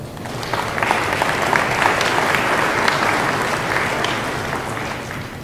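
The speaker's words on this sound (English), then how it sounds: "Please give those special people a round of applause" Steady applause from a large commencement audience at Clinton Community College, dense and sustained at an even level for the whole stretch without pause.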